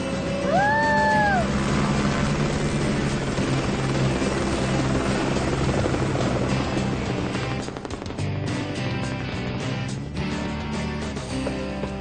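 Loud continuous helicopter rotor thrum and engine roar, close and steady, with a brief meow-like squeal near the start.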